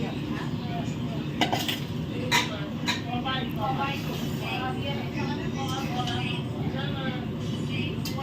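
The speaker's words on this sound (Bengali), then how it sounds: "মাছ দিয়ে ভালো করে চারদিকে নেড়ে চেড়ে সব সমান করে দেওয়া হয়" Tangra fish stirred in a pan with a little water for a large batch of chachchari: metal spatula clinks and scrapes against the pan over a constant background rumble, with a voice talking throughout.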